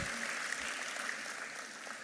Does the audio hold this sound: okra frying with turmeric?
no